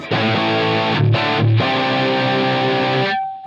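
Electric guitar played through a Line 6 Helix Brit 2204 amp model, a Marshall JCM800 emulation, with heavy distortion; loud sustained chords with a brief choppy section before ringing out, no talk.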